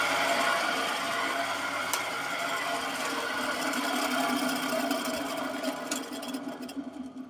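A small electric motor turning anticlockwise runs with a steady, fairly quiet whirring hum that stays even throughout, easing off slightly at the very end.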